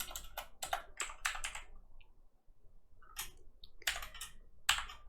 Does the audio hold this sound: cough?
no